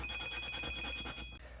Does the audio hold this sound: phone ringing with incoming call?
yes